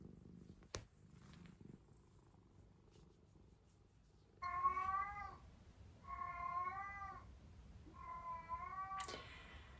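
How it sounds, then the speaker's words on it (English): A domestic cat at home meows and cries in three drawn-out, wavering calls after about four seconds, fairly close, over a low background hum, with a sharp knock near the start. "I'm sure you can hear the cat in the background."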